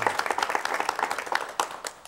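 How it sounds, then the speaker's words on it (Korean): Studio audience applause on a Korean television talk show, brisk, continuous clapping from a moderate-sized crowd, close and fairly loud throughout. "여러분 박수로 맞이해 주시죠."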